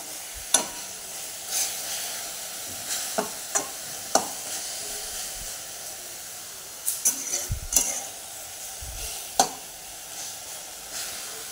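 Greens (tandalichi bhaji, amaranth leaves) frying with plenty of garlic in a pan, a soft continuous sizzle broken by sharp spatula scrapes and clinks every second or two, close up with no voices.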